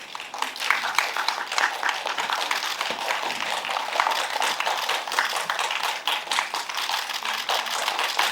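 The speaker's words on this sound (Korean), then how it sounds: "네, 따뜻한 박수로 맞아주시기 바랍니다." An audience applauds to welcome the director and actors of the film Dream Palace at a press conference, steady dense clapping from many hands lasting throughout, moderately loud and even, with no voices over it.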